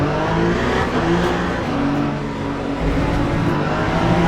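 A Porsche race car in Le Mans Ultimate at Bahrain during an eight-hour endurance race, engine droning steadily at high revs through the turn, loud and continuous with slight pitch swells as it accelerates.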